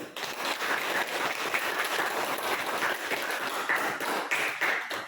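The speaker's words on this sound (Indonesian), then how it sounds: "Kasih aplaus dulu untuk kelompok 1." A room full of people applauds a student group after their class presentation, with dense, steady clapping that holds at an even level for about five seconds.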